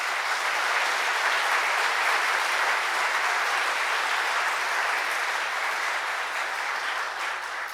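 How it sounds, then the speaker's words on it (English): Sustained applause from a large audience at the 2024 Presidential E Awards for export achievements, dense even clapping that stays loud throughout and eases slightly at the end. "let's give them a huge round of applause."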